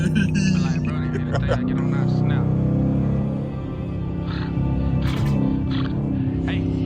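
A loud Dodge Challenger R/T rumbles close by in traffic, its engine note rising and falling as it downshifts, while a person talks over it throughout.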